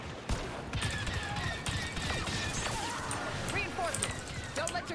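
Rapid blaster bursts from alternate fire in the Star Wars Battlefront 2 campaign crackle and pop in quick clusters beneath a busy battle mix, with a voice talking over the shooting.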